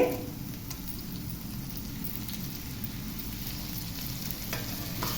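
Finely chopped tomato pieces sizzle steadily in a pan for chicken curry, a close, continuous hiss of frying with soft stirring scrapes and no voices.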